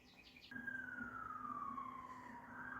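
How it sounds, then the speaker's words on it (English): An emergency vehicle's siren on a nearby main street wails in a slow, falling sweep, starting abruptly and staying fairly faint and distant over a steady background hum. "there's always a siren going off"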